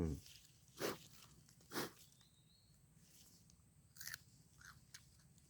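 Fresh wild galangal root, dug from pesticide-free wild ground, bitten and chewed outdoors: a few sharp, fibrous crunches spaced about a second apart, followed by quieter chewing crackles over low background noise.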